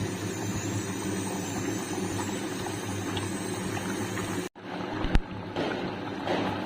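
Duck meat simmers in water in an iron wok, a low bubbling and rumbling boil that fills the background steadily, broken by a brief dropout and a single sharp knock near the end.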